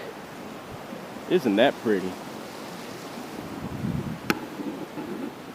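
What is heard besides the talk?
creek water flowing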